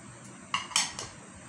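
Salt and lemon juice being mixed into a sattu drink, with three sharp clinks of a spoon against a glass or bowl in quick succession, close and fairly faint.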